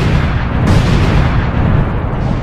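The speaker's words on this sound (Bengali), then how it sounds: "এখন চুপচাপ স্টিকি বম লাগিয়ে দেই, আর স্টিকি বমগুলো এখন ব্লাস্ট করতে হবে" Sticky bombs detonate in an open-world action video game, a loud, dense, continuous roar of blasts and rumbling booms filling the whole stretch with no voices.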